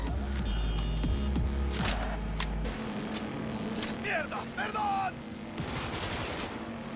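Video game gunfire aimed at people: loud, close shots in irregular clusters, with game character voices and a speaker talking between the bursts.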